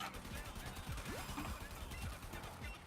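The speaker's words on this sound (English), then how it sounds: "Just the sound of gunshots in the background" Gunfire from the video game Warframe rattles in quick bursts, quiet and distant behind a murmur of other game sounds.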